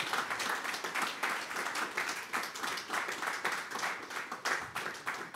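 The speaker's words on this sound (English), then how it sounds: "Can we have a round of applause for the Mixtape Madness team?" An audience at a music-industry tech talk event gives the organizing team a dense, continuous round of applause, moderately distant and unbroken by speech throughout.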